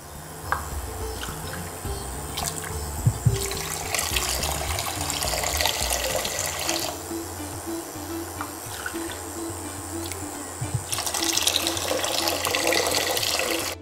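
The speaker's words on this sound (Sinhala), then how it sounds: "ඒ වෙනුවෙන් මම ගන්නවා වතුර කෝප්ප 4ක්." Water runs steadily from a tap into a pot to make sugar syrup, a continuous rushing splash that swells in intensity a few times over a low room hum.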